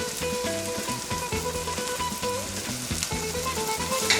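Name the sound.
shrimp sizzling in a pan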